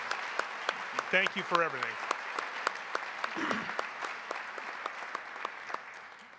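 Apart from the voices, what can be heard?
round of applause for the leadership team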